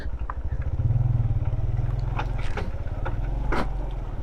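Motorcycle underside scraping over stones on a rough mountain road in the Deosai plains of northern Pakistan, scrapes and knocks over the steady engine rumble.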